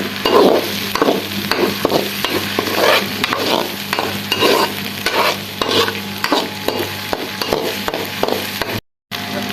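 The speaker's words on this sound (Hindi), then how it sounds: "ये ऐड कर देंगे। और इसको भी अच्छे तरीके से फ्राई कर लेंगे।" Ginger, garlic and chili paste sizzles and fries in a pan while a spoon stirs and scrapes steadily, close and fairly loud, ending in a brief silence.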